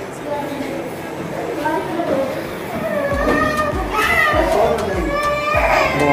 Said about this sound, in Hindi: देखो यहाँ कितने बच्चे खेल रहे हैं